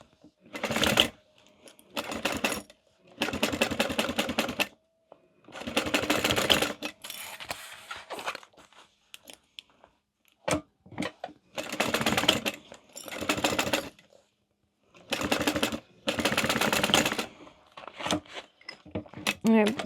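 A sewing machine stitches fabric pieces of a crossbody bag together in several loud, steady bursts separated by short pauses and quiet handling sounds, with no talking.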